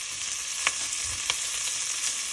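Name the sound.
garlic sizzling in a pot for beef stew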